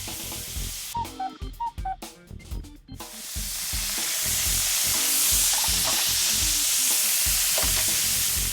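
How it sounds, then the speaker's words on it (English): Steak browning on its second side in a frying pan: a few seconds of clattering stirring and handling, then a loud, steady sizzle that fills the rest of the clip, close up and without speech. "Okay, then we brown the other side"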